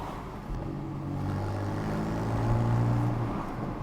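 Porsche 911 Carrera GTS 991.2 with a manual gearbox and Sport Chrono auto-blip, its engine droning steadily, the revs rising and holding through gear changes, close and continuous with no talk.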